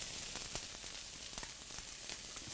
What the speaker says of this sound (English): We're ready to begin sauteing our chopped onions.